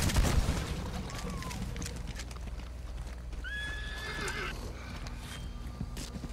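A horse whinnies in a rising, wavering call over steady clip-clop of hooves and low background rumble, with distant muffled shots, in Red Dead Online.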